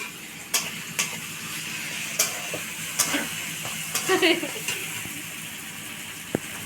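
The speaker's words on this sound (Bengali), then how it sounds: "কড়াইয়ে গুগলি রান্না হবে" Freshwater snails being stir-fried in a wok over a village earthen stove give a continuous soft sizzle, with intermittent scraping and clinking of the stirring spatula against the pan.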